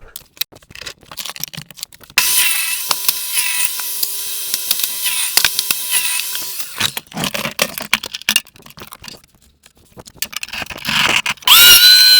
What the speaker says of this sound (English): head to the table saw, cut off all the nails and stuff on this